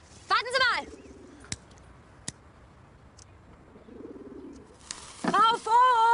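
A pigeon coos softly beneath a stone vaulted ceiling in a German comedy film, gentle low warbling phrases between louder bursts of nearby human voices and a couple of sharp clicks.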